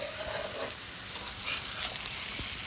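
Tomatoes are stirred in a cooking pan, a low steady sizzle with a few soft scrapes and knocks of the spoon, close and fairly quiet.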